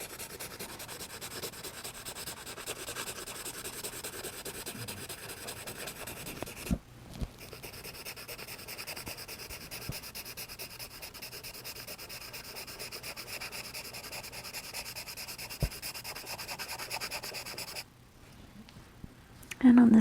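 Pencil shading on paper for a dog portrait, a continuous close scratchy rubbing that goes on steadily for a long stretch with only a couple of brief pauses.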